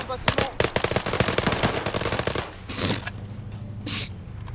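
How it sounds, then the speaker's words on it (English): Rapid automatic gunfire in a large-scale military PvP video game set during the US invasion of Panama, a loud close burst of fast repeated shots followed by a couple of duller distant reports. "I wonder what that gunfire is."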